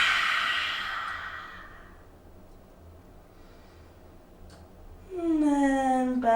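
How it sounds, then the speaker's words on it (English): A long, audible exhale flows out during a yoga session, starting strong and fading into quiet, after which a voice begins speaking. "Just taking a deep inhale through the nose. A nice cleansing breath all out."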